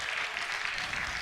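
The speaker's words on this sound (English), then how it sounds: "Give yourselves a round of applause if you're a rebel." A theater audience claps together during a keynote address, a dense, steady wash of hands held at even loudness for the whole moment, with no voices over it.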